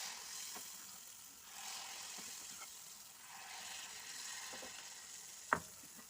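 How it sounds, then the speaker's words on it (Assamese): Pitha cakes fry in hot oil for breakfast with a soft, steady sizzle, broken by a few light clicks and one sharper clack near the end; no one talks. "এতিয়া মই এই তেলখিনিতে পিঠাকেইটা বনাই ল'ম।"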